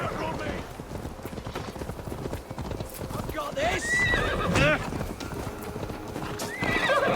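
Galloping horse in Assassin's Creed Valhalla, with rapid hoof clip-clops and a whinny over game sounds while a player talks throughout.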